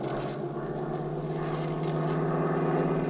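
Airplane engine in flight in a radio drama, a steady droning hum with a propeller-like throb that holds evenly and loud throughout, with no voices over it.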